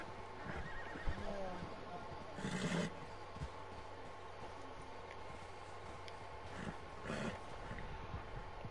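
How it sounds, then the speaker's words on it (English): A horse in Red Dead Redemption 2 swims across water, with faint whinnies, splashing and hoof-like thuds sounding low and distant beneath a quiet hum of game ambience. "That horse is hauling ass."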